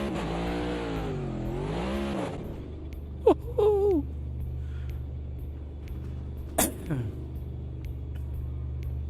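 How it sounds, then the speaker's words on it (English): A race car engine in the sim racing game Automobilista 2 idles with a low rumble and gives two or three short, sharp revs. Someone talks over the engine early in the clip. "At least the chassis rocks when you rev the engine."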